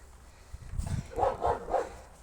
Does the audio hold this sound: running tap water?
no